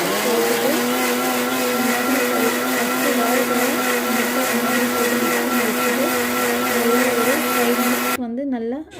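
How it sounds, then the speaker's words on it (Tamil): A mixer grinder grinds ingredients for a ragi snack, running steadily at high speed with a loud, constant whine for several seconds before it cuts off abruptly near the end. "வந்து நல்லா அரைச்சி எடுத்துக்கோங்க"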